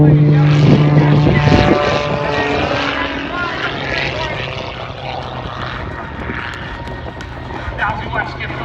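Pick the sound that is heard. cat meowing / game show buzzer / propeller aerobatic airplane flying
propeller aerobatic airplane flying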